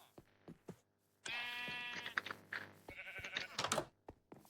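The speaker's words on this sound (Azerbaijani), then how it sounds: "Qoyunlar." Sheep bleat loudly several times, long wavering cries with short clicks and thumps between them.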